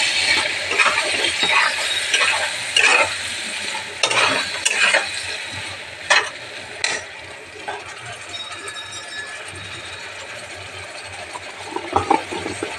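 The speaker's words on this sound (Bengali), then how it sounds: "আর পেঁয়াজের একটা পেস্ট করে নিয়েছি, সেইটা দেব। ওইটা দিয়ে একটু নাড়বো।" Ginger, garlic and onion paste stirred as it fries in a pan for a potol chingri dish, with sizzling and intermittent scraping of the utensil, loud and close, and a voice speaking at times.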